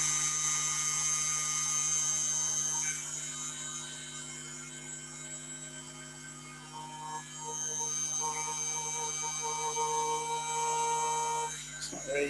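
A drill whines steadily with a tonal hum, pitch dipping briefly as it bites into material for a pilot hole, then rising again.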